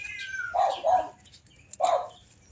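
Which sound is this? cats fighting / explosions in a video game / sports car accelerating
cats fighting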